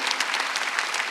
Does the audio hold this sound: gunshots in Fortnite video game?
no